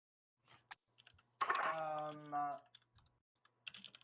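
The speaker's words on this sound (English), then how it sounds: "You guys are typing so hard." Fast clicking of computer keyboard keys, scattered close taps before and after a stretch of speech that covers the middle.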